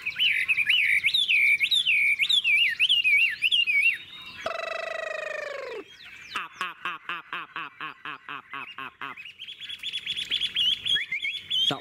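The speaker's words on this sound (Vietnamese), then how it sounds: "Giọng rất hay nha anh em nhé, anh em có thể nghe nó luyến." A tame hwamei songbird, large-bodied, sings loud and close in varied runs: warbling whistled phrases, a sweeping glide, then a rapid series of sharp repeated notes before warbling again, with no talk over it.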